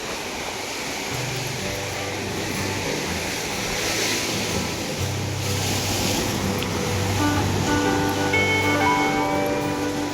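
Sea waves surge against the Bamanghal rock blowhole at Hedvi beach during high tide, a steady rushing roar of surf and water close by, with a little wind noise.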